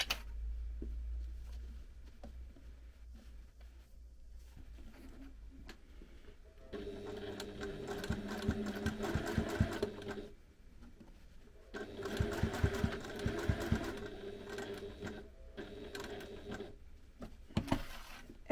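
A sewing machine bastes along the side of fabric in quiet bursts of rapid mechanical stitching, stopping and restarting, close by with no talk.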